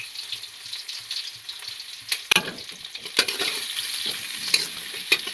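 Onions and chickpeas fry in a pan, a close, continuous sizzle broken by repeated scraping stirs and sharp clacks of a spatula against the pan.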